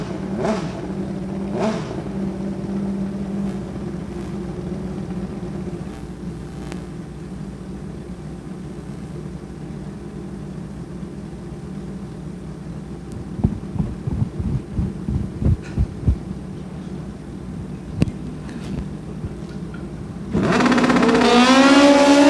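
Drag racing bikes at Lucas Oil Raceway, engines idling with a low steady throb, then a stuttering rev sequence and a loud surge as they launch off the line near the end.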